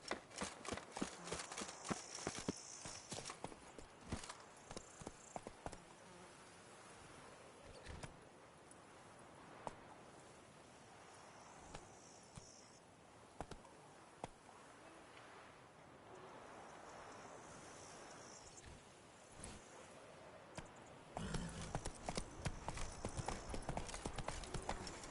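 Horse hooves gallop in The Witcher video game, a rapid clip-clop rhythm that is loud and dense at the start and end and thins to scattered hoofbeats in the middle.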